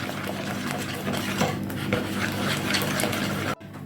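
Rapid, steady whisking of a honey mixture in a bowl, a continuous scraping and clinking rhythm that runs close up and stops abruptly.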